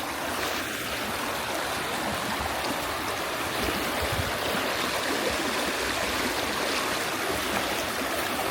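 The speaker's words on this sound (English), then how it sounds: "Listen to that water." Steady rushing water of Cedar Creek in Wisconsin flows continuously beneath a wooden bridge, a broad dense wash of sound that stays loud and even throughout with no voices.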